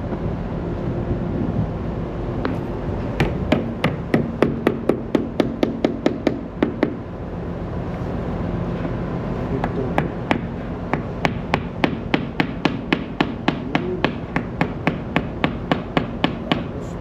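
Hammer blows ringing out in quick bursts while renewing the hoisting cable of a ship's accommodation ladder, sharp metallic strikes in rapid runs separated by pauses, over steady wind and background noise.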